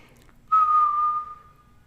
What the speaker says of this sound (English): So let's just whistle together.